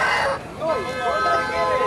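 A rooster crows loudly and close by at a busy chicken market, its cry mixed with other fowl sounds and nearby chatter.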